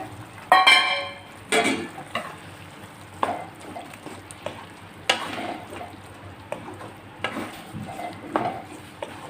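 Soya chunks (meal maker) tip into a simmering gongura curry in a pot, landing with a few sharp splashy clatters, followed by intermittent stirring scrapes and soft bubbling close by.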